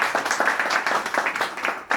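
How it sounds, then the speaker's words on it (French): A small team applauds itself, with a short, fairly light burst of scattered hand claps that is loose and uneven and has no talk over it. "on peut quand même s'applaudir un minimum"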